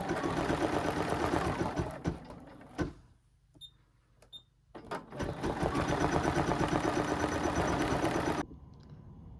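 An embroidery machine stitching out a design, its rapid mechanical needle rhythm running loud and steady, stopping briefly for a few seconds with small clicks, then resuming before cutting off near the end.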